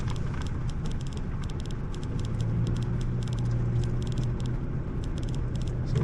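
A 2021 Subaru Crosstrek Premium creeps slowly over 8 to 12 inch deep ruts on a Black Hills trail, giving a steady low engine rumble with patter and rattling from the tires and body, close and continuous with no talk.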